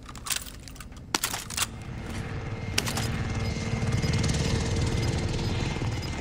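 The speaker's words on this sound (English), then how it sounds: "Enemy supply choppers above." In a shooter video game, an enemy supply helicopter passes overhead. Its rotor rumble and thrum grows steadily louder over a few seconds, and sharp keyboard clicks sound close by at the start.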